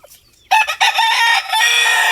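A gamefowl rooster on a Mindoro breeding farm crows loudly and close, a long drawn-out call following a few short clucks.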